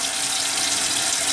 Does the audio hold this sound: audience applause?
no